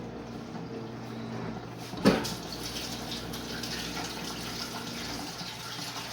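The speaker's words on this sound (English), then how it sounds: "Just need to wash my hands." A tap runs in a steady, even stream while hands are washed beneath it. One brief clunk sounds early on, and the water carries on alone at moderate loudness.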